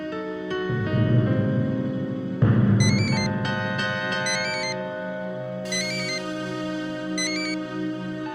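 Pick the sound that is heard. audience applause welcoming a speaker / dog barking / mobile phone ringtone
mobile phone ringtone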